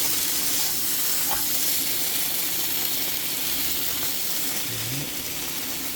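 Marinated sliced bone-in beef chuck short ribs, LA galbi style, frying in a hot pan with a steady loud hiss and sizzle throughout, a couple of faint clicks, no talking.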